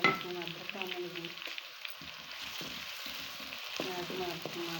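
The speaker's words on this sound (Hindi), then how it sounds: "अब हम इसके अंदर लहसुन मैंने डाल दिया, लहसुन अदरक डालने लगी।" Garlic and ginger fry in a pan with a steady, soft sizzle. Faint stirring clinks and a few background tones sit over the sizzle.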